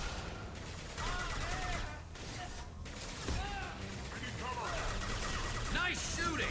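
Gunfire in the video game Mass Effect 2 sounds as a dense, steady fusillade of shots and mechanical clatter throughout, with chattering speech-like sounds mixed in.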